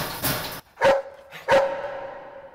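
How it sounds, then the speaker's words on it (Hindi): A dog barks twice in quick succession, each bark loud, sharp and close with a short ringing tail, with no talk around it. "ये तो कुत्ता है।"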